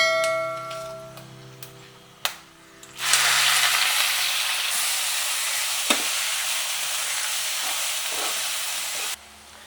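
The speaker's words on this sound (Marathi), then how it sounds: "तर आता याच्यात आपण कांदा टाकून घेऊ" Onion dropped into hot oil for a murgh musallam masala bursts into a loud, steady sizzle and hiss after a couple of clinks of utensils, frying strongly over full heat for several seconds before cutting off.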